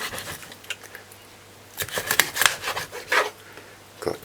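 A knife cutting raw chicken in half on a cutting board, with short rasping strokes and soft taps against the board, close and moderately loud, bunched in the middle of the clip.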